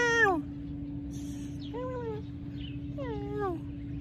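A cat meows three times in an outdoor yard in the Philippines, the calls spaced about a second apart, each a short rising-falling whine, moderately close over a steady low hum and background noise.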